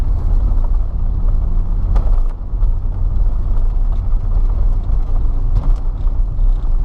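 A 2017 Renault Megane Sedan pulls hard after a manual-mode downshift. Its engine gives a loud, continuous, close rumbling roar inside the cabin for several seconds, with no talking.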